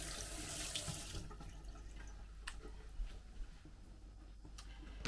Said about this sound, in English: now let me just rinse off my hands because of the smelly pepperoni